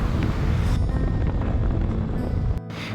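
Strong wind rushing past a motorbike riding the winding, forested Murree Expressway, a loud continuous roar buffeting the microphone that drops away abruptly near the end.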